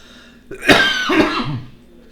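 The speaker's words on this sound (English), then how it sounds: "As I cough into the microphone." A man coughs once or twice close into a microphone late at night, a short harsh burst with throat-clearing rasp trailing off, alone against a quiet room.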